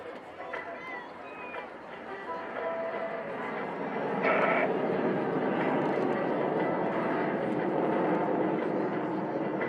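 A military jet at the Blackpool airshow roars overhead, its broad rushing engine noise swelling and holding loud as it pitches up and climbs away, with someone talking over it.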